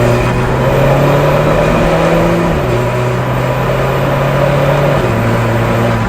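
An Alfa Romeo 4C Spider Italia drives with its mid-mounted transverse aluminium turbo four-cylinder humming steadily and close, its pitch stepping down at gear changes amid loud road and wind noise.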